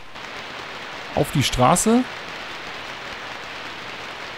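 Steady rain falls on a street in the video game Dreamweb, a constant hiss throughout while someone speaks briefly in the middle.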